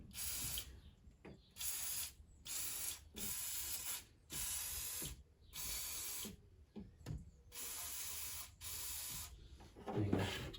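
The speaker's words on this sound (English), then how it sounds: "Let's give it a good spray down there." Repeated bursts of penetrating oil aerosol spray hiss onto a Mazda MX-5 exhaust manifold, about eight long blasts separated by short pauses, close and loud, with faint clicks and handling noises between them.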